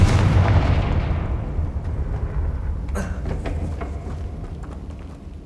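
A Confringo spell blast in Hogwarts Legacy: a loud, deep explosive boom that rumbles and slowly decays, with smaller crackling bursts trailing after it.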